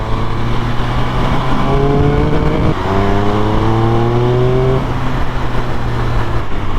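A Triumph Speed Triple 1200 RS motorcycle is ridden at speed, its engine droning loud and steady close up. The pitch climbs through a gear, drops briefly at a shift and rises again over wind rush.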